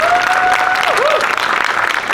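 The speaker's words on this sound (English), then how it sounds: "big round of applause for Wendy." Crowd at an outdoor Pride Fest flag raising claps steadily, with a cheering whoop rising above the applause.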